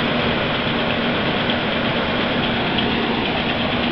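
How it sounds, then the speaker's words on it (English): A 2000 Ford Ranger pickup engine runs steadily at idle, a continuous close-up drone with a slightly loose, rattly texture and no voices. "That's the motor, that's it running."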